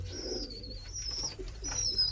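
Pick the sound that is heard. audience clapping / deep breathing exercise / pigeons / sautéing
pigeons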